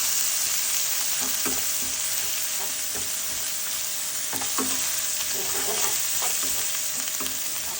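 Ginger, chili and garlic paste sizzles in oil over medium heat, a constant hiss broken by soft scraping stirs of a spoon against the pan.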